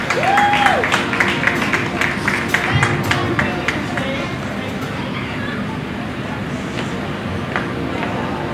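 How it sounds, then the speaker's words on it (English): Applause from a crowd at an elementary school graduation ceremony, Ikoyi Campus 2022, a steady, dense wash of clapping with a brief voice near the start, lasting throughout amid general hall murmur. "Let's clap for them"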